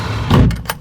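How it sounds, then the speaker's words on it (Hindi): A drawer is pushed shut with a single short, close thud, followed by a faint rattle. "उसने ड्रॉर को बंद किया"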